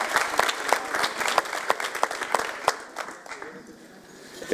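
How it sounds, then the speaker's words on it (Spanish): An audience applauding in a hall, many hands clapping in a brisk, fairly close burst that thins out and fades toward the end. "Pueden aplaudir ahora."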